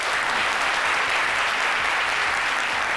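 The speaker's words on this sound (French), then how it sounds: "Merci de bien vouloir l'applaudir." A TV studio audience breaks into loud, sustained applause, a dense even patter of clapping close by that holds steady throughout without talk over it.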